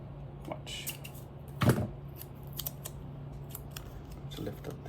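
Scissors snipping through paper while decorating a planner: faint, close cuts over a low steady hum, with one louder crisp snip in the middle.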